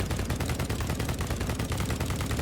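A new gun in BattleBit Remastered fires on full auto without recoil control: a loud, unbroken rapid stream of shots at an even rhythm.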